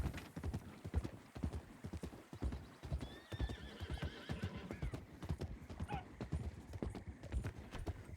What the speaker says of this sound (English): It's a wild horse, okay.